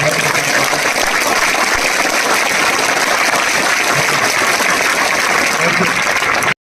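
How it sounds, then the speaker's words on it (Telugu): An audience at the Nagavaram hostel event claps loudly and continuously, a dense, even wash of applause that holds at full strength until it cuts off. "ఒక్కసారి గట్టిగా చప్పట్లు కొడితే ముఖ్యమంత్రి గారికి"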